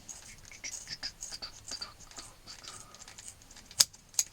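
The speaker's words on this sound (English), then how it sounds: "Little fold, get my sharp scissors. So this is going to be my two straps." Sharp scissors snip through leather straps while finishing a Pocket Rocket accordion, giving soft scattered crunches and two louder crisp closing snaps near the end, close and quiet with no talking.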